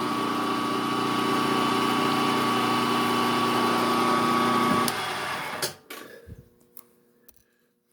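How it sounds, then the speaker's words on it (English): A machine runs a center drill into metal for a Stirling engine helicopter model, a steady, close whirring hum for about five seconds that then winds down, leaving faint clicks and handling taps. "And center drill."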